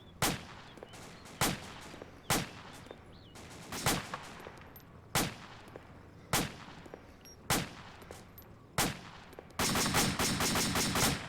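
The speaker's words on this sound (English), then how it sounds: "I'm just gonna keep firing in this direction." Arma 2 gunfire rings out as sharp, loud single shots at a steady pace of about one every second, then breaks into a sustained automatic burst at the end, with no talking.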